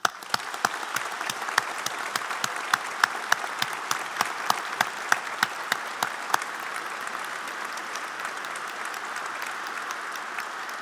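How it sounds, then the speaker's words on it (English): A graduation ceremony audience at the University of Lincoln gives sustained applause, a broad even wash of clapping with sharp individual claps standing out near the start before it settles into a thinner, steady patter. "please join with me in also giving them a grateful round of applause"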